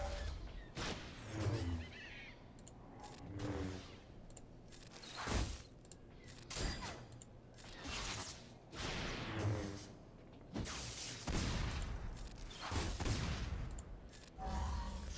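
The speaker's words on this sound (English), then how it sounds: "Thermal detonator exploding" Thermal detonator blasts and combat effects in Star Wars: Galaxy of Heroes, a string of sharp, booming bursts and whooshes repeating every second or two across the whole stretch, loud and close with no talking.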